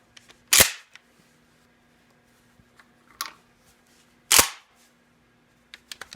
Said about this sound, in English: So I'll see if these guys chamber up and cycle through a pump gun